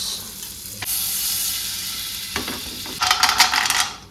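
Butter sizzles in a hot pan with a loud, steady frying hiss, stirred occasionally, and the crackle swells toward the end.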